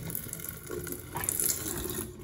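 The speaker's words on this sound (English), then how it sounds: "The water too is flowing." Water runs from a kitchen tap in an apartment, a steady close splashing flow that holds evenly for a couple of seconds with no voices over it.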